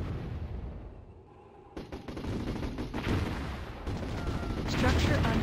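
Artillery and cannon fire in the strategy game Warzone 2100, with repeated booming impacts building into a dense, loud barrage after a quieter opening and speech over the top.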